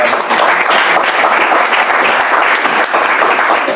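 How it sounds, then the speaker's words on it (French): A church congregation applauds at a service, a dense, loud, sustained clatter of many hands clapping together with no pauses, filling the room from start to finish. "Acclame pour ta vie."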